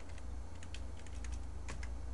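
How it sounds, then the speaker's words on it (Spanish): Quick, irregular clicking of keys on a computer keyboard, a steady run of light taps at close range over a low background hum, with no voices. "teniendo problemas con la llavecita acá en mi teclado"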